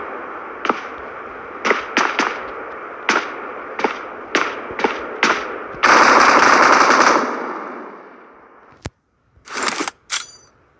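Machine-gun fire in the battle-royale shooter PUBG: a string of separate loud bursts and single shots, then a long sustained roar of automatic fire, a sharp crack, and a few final short bursts, with no talk.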